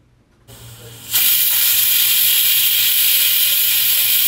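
Pressure cooker on high flame with camel stew inside, building from a low hiss to a loud, steady, broad jet of whistling steam that holds on continuously.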